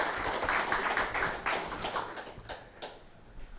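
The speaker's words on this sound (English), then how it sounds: "a big round of applause for Naveen" An audience applauds a speaker being welcomed at a leaders forum in the UAE, a steady wash of claps that swells early and then gradually thins out.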